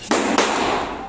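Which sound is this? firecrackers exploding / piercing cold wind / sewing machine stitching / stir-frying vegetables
firecrackers exploding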